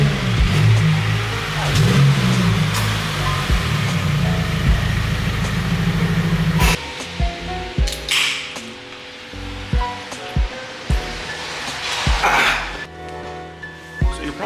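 A Subaru WRX pulls into a garage, its engine loud and close as it revs and rumbles for several seconds, then settles to a lower idle with scattered clunks and knocks.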